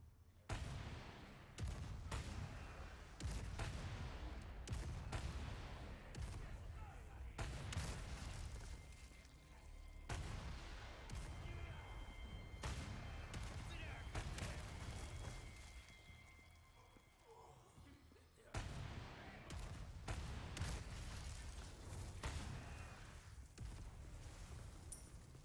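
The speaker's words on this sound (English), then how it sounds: "At this point, I think I just like the big explosions" Continuous booming explosions and rapid gunfire crackle throughout the video game Resident Evil 4 Remake, dense and loud, with brief pauses between bursts of heavy blasts.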